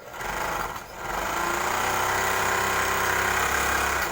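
A Flying Horse sewing machine stitching, a continuous close mechanical whir and vibration that drops out briefly near the start and then runs steadily at full speed.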